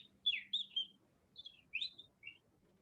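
Birds chirp in short, bright, high tweets, several quick calls in two bursts with a pause between, close and clear against a quiet background with no speech.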